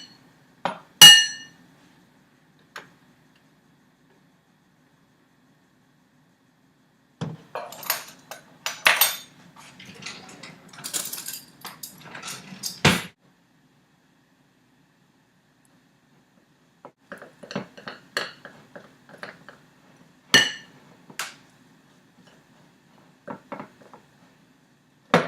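A spoon stirs milk into cookie icing in a bowl, making scattered bursts of clinking and scraping against the bowl with quiet pauses between. No one speaks.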